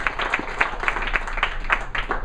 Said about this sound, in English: how about a huge round of applause for them coming and sharing their time and energy with us tonight